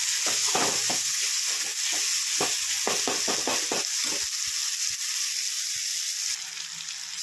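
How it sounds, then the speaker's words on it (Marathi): Onion, tomato and ghati masala sizzle in a pan with a steady close hiss. A spoon stirs through the mix and taps the pan at uneven intervals. "आणि आपला घाटी मसाला। मीठ तर आपण घातलेलंच आहे। छान असं हे आपण परतून घेऊया।"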